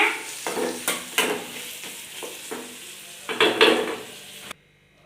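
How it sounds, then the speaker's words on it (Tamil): Onions, tomatoes and coconut sauté in a pan for a fish curry, with a steady sizzle and repeated sharp scrapes and clinks of a spoon stirring against the pan. "வெங்காயம் தக்காளி தேங்காய் எல்லாம் போட்டு வதக்கலாங்க."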